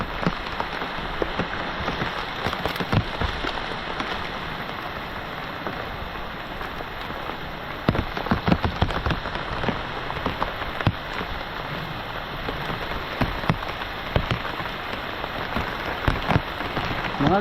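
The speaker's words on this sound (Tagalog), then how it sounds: "Talagang walang mintis ang ulan dito mga kautol sa amin." Heavy rain pours steadily and loudly for the whole stretch, a dense continuous hiss with scattered sharper drop impacts and no voices.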